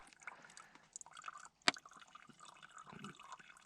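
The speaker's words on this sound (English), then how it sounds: "It'll probably take me 5 minutes to fill that bottle up." Water drips from a small plastic filter bladder into a bottle at a Lake District wild camp, faint soft trickling broken by one sharp, clear drip.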